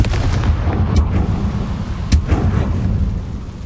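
A Confringo fire spell exploding in the Hogwarts Legacy video game, a loud booming blast with deep rumbling and a couple of sharp cracks.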